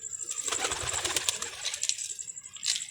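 Pigeons coo softly amid rustling and flutters, with a constant high whine running underneath.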